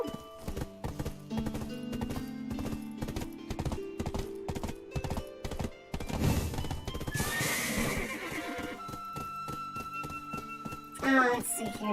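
Horse mount in the Black Desert Online video game neighing and whinnying, with steady rhythmic clip-clop hoofbeats and game music and effects layered throughout.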